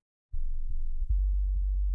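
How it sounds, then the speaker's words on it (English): A deep sustained sub bass tone, pitched down two semitones, enters after a short silence, wobbling at first, then settling into a steady, loud low hum. "see if the sub bass is in the sweet spot"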